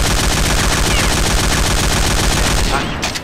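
Rapid automatic gunfire in the shooter game CSPB, a dense continuous burst of loud shots that cuts off near the end.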